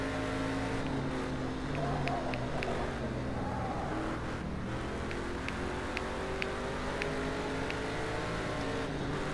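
Stock car engines in a NASCAR circuit racing video game drone and rev continuously in several layered tones, with a faint ticking underneath and no talking.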